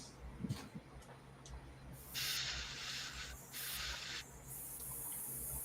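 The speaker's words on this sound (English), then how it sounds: "Get everything out of this airbrush." An airbrush being flushed clean blasts out paint in short hissing bursts, several spurts of spray a second or so long, close and fairly faint against a quiet room.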